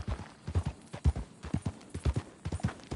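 Horse hooves clip-clop in a quick, even rhythm, a close, moderately loud steady trot of a horse in a PS4 video game, with no talking over it.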